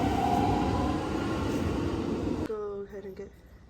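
Train ride in Yokosuka, Japan: a loud, steady rumble and hiss inside the carriage that cuts off sharply partway through, followed by quieter cabin tones and a descending whine as the train slows.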